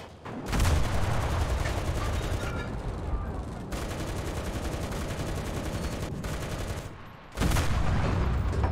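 Dense, sustained gunfire and artillery blasts in the World War II shooter Enlisted, set in North Africa, with loud continuous volleys and booms that drop briefly near the middle and end before bursting back in.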